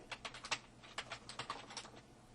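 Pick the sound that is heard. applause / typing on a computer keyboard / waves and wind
typing on a computer keyboard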